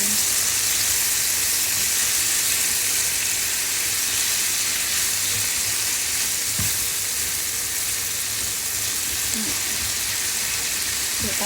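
Bitter gourd (ampalaya) with eggs fries in a pan, giving a steady, close sizzle that runs unbroken throughout, with no talking.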